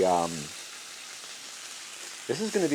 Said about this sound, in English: as with most good griddle cooks, we are going to start with bacon down